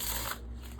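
A Dream Dust Shamanic tarot deck is shuffled by hand in one short, crisp riffle of cards close to the microphone.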